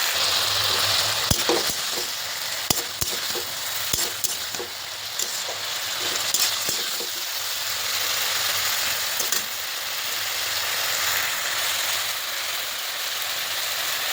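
Cumin, chilli powder and green chillies sautéing in a pan for kalai shak dal, a steady close sizzle with scattered clicks and stirring scrapes throughout, no talking.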